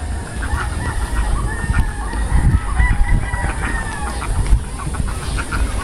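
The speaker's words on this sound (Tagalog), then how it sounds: "Ingay talaga pag ang gansa" Geese honking in a steady noisy chorus at a fishing-area farm, repeated calls overlapping over a continuous low rumble of background noise, fairly close and loud throughout.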